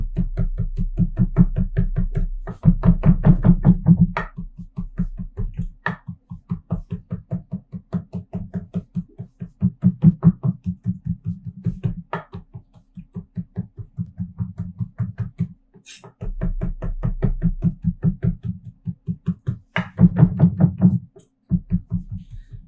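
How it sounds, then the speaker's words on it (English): A knife chops black truffle carpaccio on a cutting board in quick, steady, evenly spaced taps. The sound is close and continuous over a low, constant hum. "we are going to chop half of this Truffle Carpaccio."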